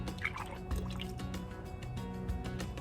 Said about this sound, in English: to that I'm gonna add 1 cup of melted butter